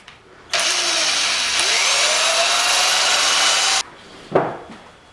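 A drill bores through a stack of metal bottle caps clamped together with pliers for pandeiro jingles, a loud, steady, close whirring grind for about three seconds, then stopping, followed by a single brief clack.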